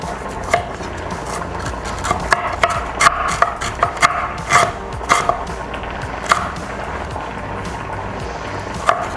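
Fresh ginger chopped with a knife on a cutting board, a run of crisp, fairly close knocks at an uneven pace, several strikes each second.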